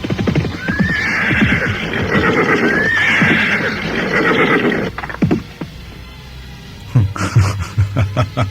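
A horse neighs twice in loud, close whinnies, mixed with hoof clip-clops and snorts, and more hoofbeats and movement follow after a short pause.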